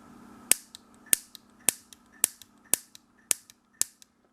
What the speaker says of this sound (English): it does make a very cool popping noise